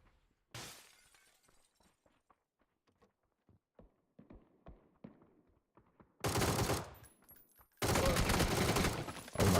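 Bursts of gunfire in a competitive online shooter match, with scattered single shots early on, then two loud sustained automatic volleys near the end, mixed with sharp glassy impacts.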